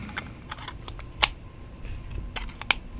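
A Majohn V60 red fountain pen's cap is pushed on and pulled off repeatedly, giving soft, dull little clicks and taps with no crisp snap, close and quiet over faint background hiss.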